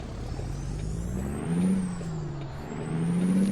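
A truck engine in the video game American Truck Simulator drones steadily at close range, its low rumble rising in pitch as it revs up twice, with a faint high whine on top.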